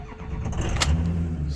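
A cold 2004 Ford F250 Lariat Powerstroke diesel cranks briefly and then catches, settling into a steady low diesel idle rumble up close with no talking.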